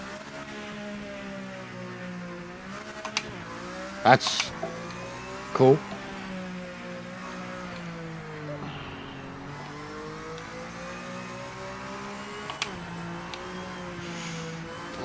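An LMD race car engine in the racing game PMR drones and revs with shifting pitch through gear changes, up close and steady, with someone talking briefly over it.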